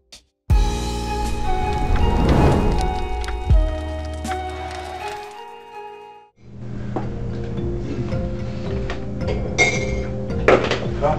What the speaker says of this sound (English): Make the coffee.